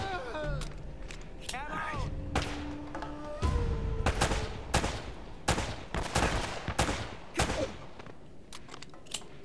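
Rapid gunfire from Uncharted: Drake's Fortune, with repeated sharp shots and short bursts in close succession over a continuous game soundscape.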